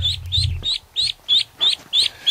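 Muscovy ducklings call in a series of seven shrill, evenly spaced peeps, close and loud, with a brief low rustle at the start.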